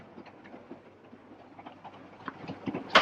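A train runs on rails in a 1943 film with a faint, steady clickety-clack of wheels over track joints that grows slightly louder toward the end.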